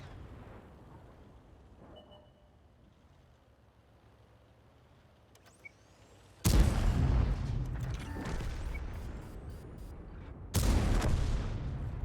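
Two heavy tank cannon shots from the ASTRON Rex in a video game, loud booming blasts about four seconds apart that cut in over a quieter engine rumble.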